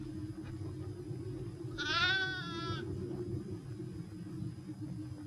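A single sheep bleats clearly for about a second during a harsh snowy winter, its wavering cry rising over a steady low rumble of wind and background noise, with no one speaking.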